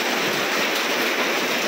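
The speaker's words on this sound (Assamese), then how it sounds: "এইটো বিৰাট ডাঙৰ শিল বৰষুণ দিছে" Heavy rain mixed with large hailstones pours down in a dense, steady roar, loud and close, with no voices over it.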